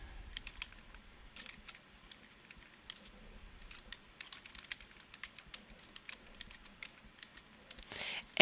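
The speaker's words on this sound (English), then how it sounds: "create an account by typing in your name, typing in your school email address" Keys tapped on a computer keyboard in quick, irregular bursts of light clicks, fairly close and quiet, with a brief louder rustle at the very end.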